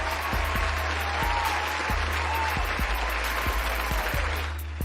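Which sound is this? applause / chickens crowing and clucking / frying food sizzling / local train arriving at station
applause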